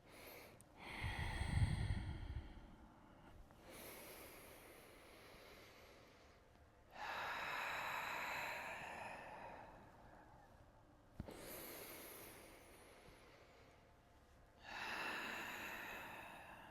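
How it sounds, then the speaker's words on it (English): Loud, exaggerated breaths during a yoga spine-flexing routine: a snorting inhale, then long audible exhales and inhales alternating in slow cycles, close and without talk. "Now a few more times with your breath. Inhaling and exhaling."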